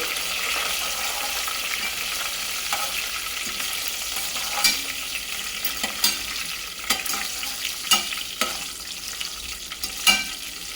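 Ingredients for khichdi pachi pulusu frying in hot oil, a steady close sizzling hiss with scattered spoon scrapes and clicks that grow more frequent toward the end, no talking.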